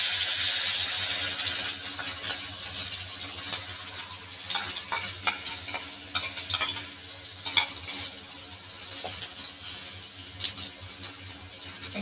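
Steady frying hiss as masala paste is poured into a pan for pointed gourd fry, with scattered clicks and scrapes of a utensil against the pan, close by and without speech.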